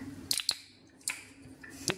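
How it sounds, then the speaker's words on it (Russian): A bottle of Essentuki mineral water being opened, a few short sharp clicks and snaps of the cap followed by a brief fizzing hiss, close and fairly quiet, with no talking. "Открываем наши Ессентуки."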